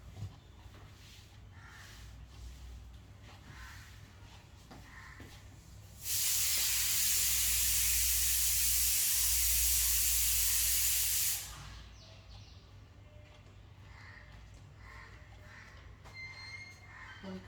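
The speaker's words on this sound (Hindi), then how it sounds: "सीटी पे सीटी बजा रहा है कुकर मेरा।" A kitchen pressure cooker lets off a loud burst of hissing steam whistle for about five seconds, starting and stopping abruptly against a quiet room with a low hum and a few soft sounds.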